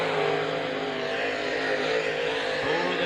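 Dirt late model race car roaring down the back straightaway at Wartburg Speedway, a loud steady engine drone with a high rasping whine held throughout, no gaps.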